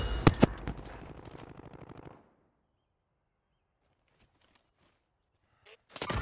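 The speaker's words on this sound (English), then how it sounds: "they're shooting at me" Gunfire in Call of Duty Modern Warfare on the Verdansk map, a rapid burst of close, loud shots followed by near silence, with a few faint distant pops and a sharp noise returning at the end.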